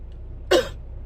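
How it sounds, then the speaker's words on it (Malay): A single short cough bursts out near the middle, close and fairly loud, over a low steady hum with no talk around it. "DAP batuk."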